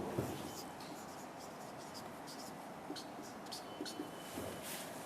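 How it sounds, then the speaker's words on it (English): A pen writes by hand on a surface with faint, intermittent scratching strokes over a hissy background, and no clear voices. "I'll write here phase 1"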